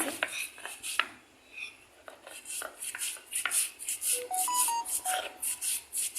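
Cumin seeds are ground on a stone slab with a stone roller in rhythmic, repeated scraping strokes, close by, with a few short electronic beeps.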